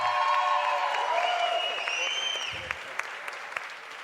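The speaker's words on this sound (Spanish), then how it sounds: "para quien también les pedíamos un gran aplauso" Applause from a conference audience for a panelist at a digital advertising event, steady and full at first, then thinning into scattered claps as a voice with a tonal sweep rises over it near the end.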